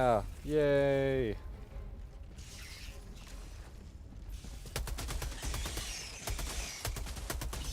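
Gunfire in Helldivers II: a loud electronic warble opens, then rapid bursts of close automatic shots rattle through the second half, with voices talking.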